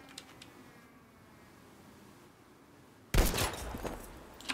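Gunshots in the video game Battlefield V, a quiet lull broken by a sudden loud blast followed by a rolling crackle of shots and echoes.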